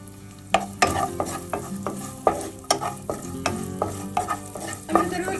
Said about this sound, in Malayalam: 1 ടേബിൾ സ്പൂൺ നെയ്യിടാം. നമുക്കിതിലേക്ക് കുറച്ച് തേങ്ങ കുത്തിട്ട് റോസ്റ്റ് ചെയ്തെടുക്കാം.